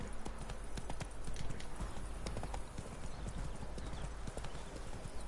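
Roach, a horse in The Witcher 3: Blood and Wine, trots along with a steady, brisk clip-clop of hooves, close and continuous over a low background bed.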